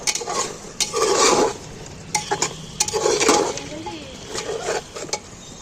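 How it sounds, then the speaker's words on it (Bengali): Mutton and onions being stirred and browned in a pot, with scraping utensil strokes against the metal over a continuous frying sizzle, close up, in several bursts of vigorous stirring. "দেখো নাড়াচাড়া করতে করতে অনেকটা কষা হয়ে গেছে"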